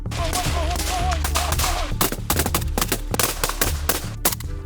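Rapid bursts of gunfire crack repeatedly at a military training range over a steady low rumble and tonal background, loud and dense, with no voices.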